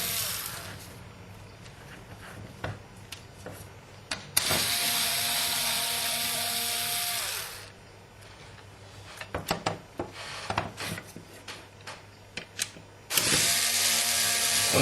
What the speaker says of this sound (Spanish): Procedemos y aflojamos los tornillos.